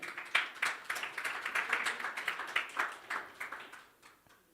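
Audience at a colloquium on African customary law gives a round of applause: moderate clapping from a small crowd, steady at first and then thinning to a few scattered claps before fading out.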